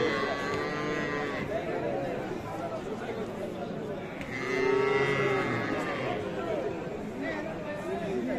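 Bulls and heifers low and moo at a rural cattle market, with a few drawn-out calls, one louder near the middle, under continuous nearby talking and crowd chatter.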